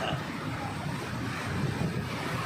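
Sea waves wash steadily onto the shore beside the Somnath temple on the Gujarat coast, a continuous broadband roar with gentle swells, steady and fairly distant, with wind noise and no clear talk.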